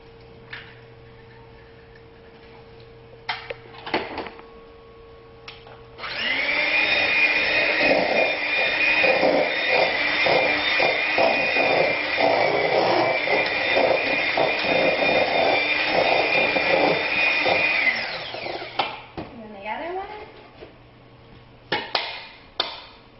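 An electric mixer beats an egg into cookie dough, a loud steady whirring drone lasting about twelve seconds with knocks against the bowl, and scattered clinks before and after.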